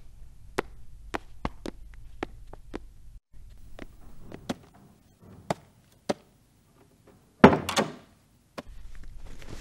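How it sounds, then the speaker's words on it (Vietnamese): A door is shut and locked indoors, giving a loud close-by thunk and latch clatter near the end, after a series of sharp knocking or chopping taps, with no talking. "Tôi sẽ khóa cửa đấy."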